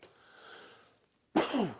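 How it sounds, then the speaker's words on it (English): A single sharp cough bursts out near the end after a faint, quiet lead-in. "Keep coughing."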